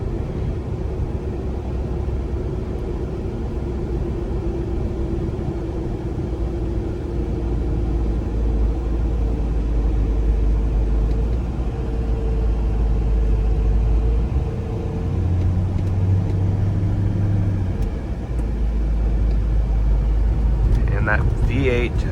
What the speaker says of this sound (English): V8 just sings